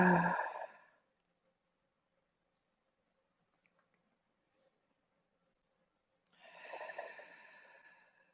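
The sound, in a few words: deep breathing during a yoga stretch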